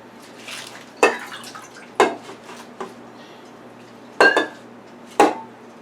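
Collard greens dropped into a metal pressure cooker insert, giving about five separate clattering knocks against the metal, close by, spread out with pauses between them.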